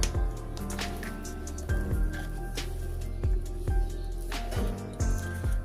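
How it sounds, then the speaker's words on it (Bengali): Thick ground idli batter poured into a bowl, with wet squishy plops and drips landing every second or so, close and fairly loud, with no talking. "এবার আমি এখানে একটা গামলি নিয়েছি, এই গামলির মধ্যে ঢেলে দেব"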